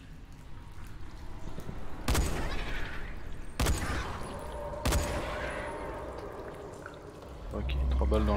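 Three gunshots in the video game Dying Light The Following, sharp loud cracks spaced a second or so apart over a quiet game backdrop with a voice speaking.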